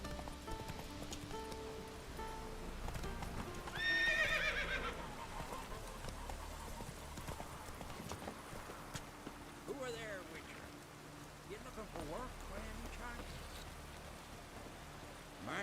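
Roach, the horse in The Witcher 3: Wild Hunt, clip-clops along through rain with a neigh partway through, the hoofbeats and patter sitting under soft game ambience and occasional talk.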